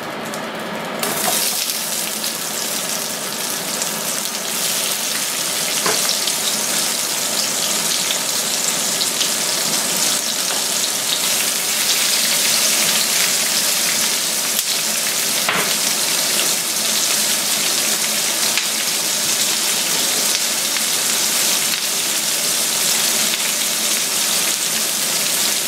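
Onions frying in a pot for French-style beef bourguignon, a loud dense continuous sizzle that hisses steadily throughout without pauses or talk.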